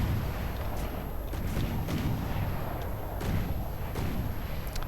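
Naval ships trade cannon fire in the video game From The Depths, a dense dull rumble of repeated booms and thuds under continuous noisy battle ambience, with no voices.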